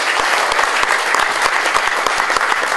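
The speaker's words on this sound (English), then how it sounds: "Please give them a loud round of applause who supported." Loud round of applause at an America Nepal Chamber of Commerce event in LA honoring disaster rescuers, close and steady, with distinct sharp individual claps standing out from the crowd.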